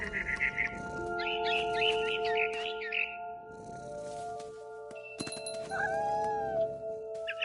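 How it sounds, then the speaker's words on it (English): Cat sounds in a video game as a cat stalks a scared barn swallow: several meows and caterwauls, some chirpy bird-like calls, over a soft tonal music backdrop, fairly quiet and intermittent. "I was a cat."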